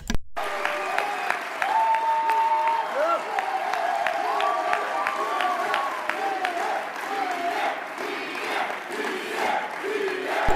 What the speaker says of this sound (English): They're cheering Pierre.